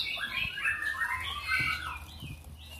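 Busy, chattering calls of a Hong Kong laughingthrush (poksay Hongkong), squeaky, warbling phrases repeating close by for a few seconds over a faint low rumble.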